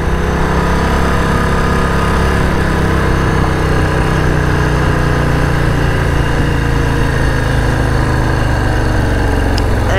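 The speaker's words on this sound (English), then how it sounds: "it vibrates and, you know, and it's an experience riding a Harley" A 2021 Harley-Davidson Street Bob 114 motorcycle engine rumbles steadily while riding, a loud, continuous low-pitched drone with vibration and no pauses, heard alone without talk.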